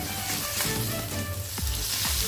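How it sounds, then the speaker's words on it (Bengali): Pomfret fish frying slowly in oil over low heat, giving a close, steady and dense sizzle that holds at an even loudness with no talking. "এখন ওই পাশটাও আমার ভাজা হবে, আস্তে আস্তে আঁচে"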